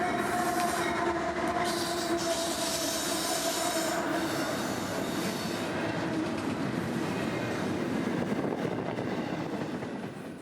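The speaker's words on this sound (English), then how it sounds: "He'd be here in about 15 minutes with a long train out of Winter Haven" A long freight train on the S-Line rolls past steadily and loudly, steel wheels squealing in sustained high tones over a dense rumbling roar that fades slightly at the end.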